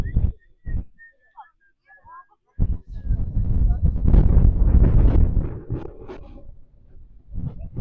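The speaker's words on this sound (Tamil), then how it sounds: "சரியான காத்துருங்க, ரொம்ப வலிமையான காத்து." Strong wind buffets the microphone on a hilltop on Kondarangi Hills near a temple, rising into a loud, rough roar for several seconds, with people talking before and during the gusts.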